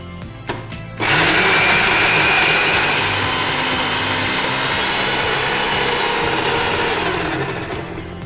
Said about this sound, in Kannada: ಇನ್ನು ಮಿಕ್ಸಿಗೆ ಹಾಕಿ ರುಬ್ಬುವುದೊಂದೇ ಬಾಕಿ